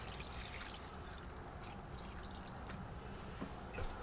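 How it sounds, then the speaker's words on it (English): Water trickles and splashes softly into a bowl of deer and wild hog sausage meat mix for several seconds, a faint continuous pour with small drips near the end. "Now I'm going to add about a cup of water to the mix."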